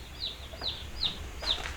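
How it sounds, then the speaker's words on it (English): Baby meat-bird chicks in a box peep four times in a steady rhythm, high and close, over a low background hum with no talking. "It's a box of chickens."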